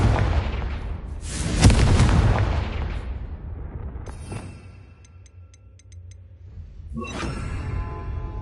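Confringo fire spell blasting in Hogwarts Legacy, a booming explosive whoosh swelling and fading, followed by further spell impacts, crackles and a later blast.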